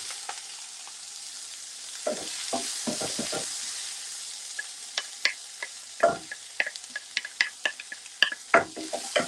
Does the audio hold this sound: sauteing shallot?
yes